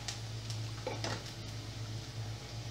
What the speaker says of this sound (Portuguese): aqui eu tô fritando cebola e alho com 3 colheres de sopa de óleo